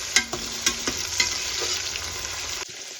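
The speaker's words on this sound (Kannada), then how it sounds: "ಚೆನ್ನಾಗಿ ಹುರ್ಕೊಳ್ಳೋಣ." Turmeric and green chillies fry in hot oil for chicken kabab biryani, a close steady sizzle punctuated by a few sharp stirring clacks, cutting off abruptly near the end.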